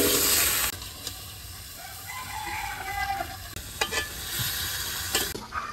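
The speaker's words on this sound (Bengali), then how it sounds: "মিষ্টি কুমড়া ভুনো হয়ে গেছে" Pumpkin stir-fried with shrimp in a village kitchen pan gives a steady sizzle broken by repeated spatula scrapes and stirring clacks, while a rooster crows faintly in the background.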